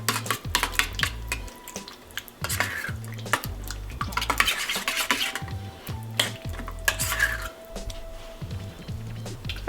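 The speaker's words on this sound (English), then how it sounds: "Gonna mix that together." A spicy homemade sauce with red pepper flakes is stirred in a bowl, with a spoon scraping and clinking against the sides in quick repeated strokes, close up and without talk.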